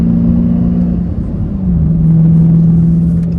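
A Dodge Challenger Hemi 392 cruising on a highway, its engine holding a loud, steady low drone with a slight pitch dip midway, under continuous road and wind rumble.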